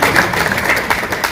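A comedy show audience claps steadily, a dense wash of applause at moderate distance with no voices above it.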